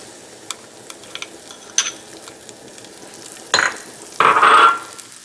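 A date and fig mixture cooks in a pan, giving a quiet steady sizzle with light stirring taps, then two louder bursts of frying near the end.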